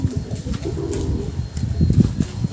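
Pigeons softly cooing inside a breeder loft, a continuous low warbling chorus of several birds close by, with faint rustling and a few wing movements and no talk.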